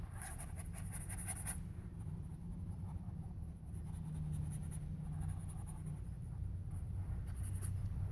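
Pencil or pen scratching across paper while sketching on a road trip stop, with steady strokes and scribbles up close, continuous over a low background rumble.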